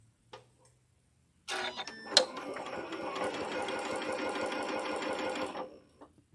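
A sewing machine runs steadily for about four seconds, stitching a fabric seam up close. It starts with a sharp clatter and keeps a dense, even mechanical whir with fast ticking, then stops. Faint handling noises come before and after.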